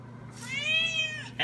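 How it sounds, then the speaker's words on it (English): A single drawn-out cat meow rising and falling, clear and close, followed by a brief start of another sound at the end. "Big time meowing."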